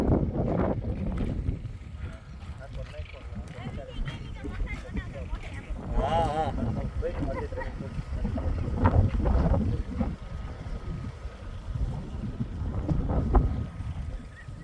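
Gusts of wind buffet the microphone on an open farm in uneven bursts of low rumble while people talk intermittently nearby.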